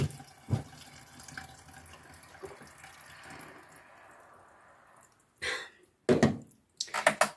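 Drinking water runs from a tap into a sink in a home kitchen, a soft steady stream followed by several louder, abrupt bursts of splashing flow near the end.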